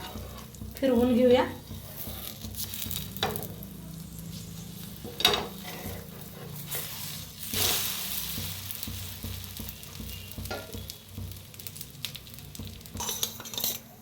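An egg paratha cooking on a tawa gives a soft sizzle with clinks and scrapes of a spatula against the pan, close and moderate, with brief speech over it.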